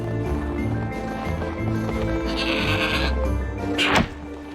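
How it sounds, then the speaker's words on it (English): A goat in the video game Trine 4 bleats loudly over game music, with hoof clatter and a sharp bleat near the end. "What an amazing goat."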